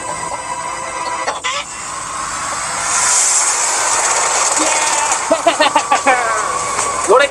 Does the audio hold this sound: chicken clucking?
yes